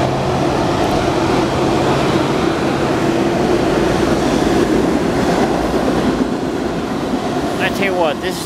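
A Norfolk Southern freight train passes close by, a loud, continuous rumble of rolling cars and clattering wheels throughout, with a brief squeal near the end.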